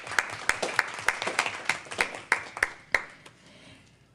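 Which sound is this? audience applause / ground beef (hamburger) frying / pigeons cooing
audience applause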